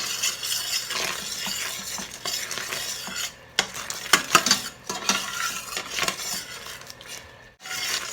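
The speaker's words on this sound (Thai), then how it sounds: "เดี๋ยวยายขอเคี่ยวกะทิแป๊บนึงนะคะ" Coconut milk simmers in a pot for chicken massaman curry while a spoon scrapes and stirs against the metal, with irregular clattering strokes over a faint sizzle and no voices.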